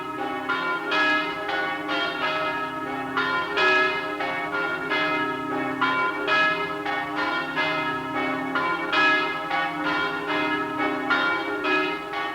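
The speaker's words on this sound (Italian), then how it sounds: "Quando il corteo è in vista, le campane squillano" Church bells ring out at the Barbana island sanctuary as a pilgrimage procession arrives, a steady rhythmic peal of overlapping strokes sounding clearly with no voices.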